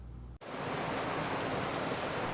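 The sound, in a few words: heavy rain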